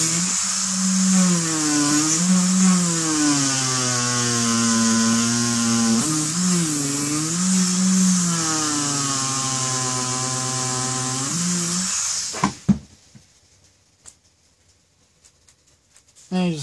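A power tool whines steadily while enlarging a hole in the plastic of an HK G3 Tippmann A5 paintball marker build, its pitch sliding up and down before it cuts off, leaving a few faint clicks.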